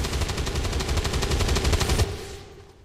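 Rapid automatic gunfire in the video game XCOM 2: War of the Chosen, a loud, fast burst of evenly spaced shots lasting about two seconds, then cutting off into a fading echo.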